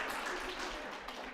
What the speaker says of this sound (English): Now you can clap for Nate.